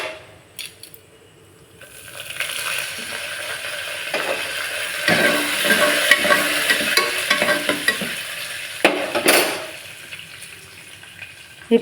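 Oil sizzles and crackles as curry leaves and dried chillies are dropped into a hot pan and stirred, the frying swelling loudly after a quiet start.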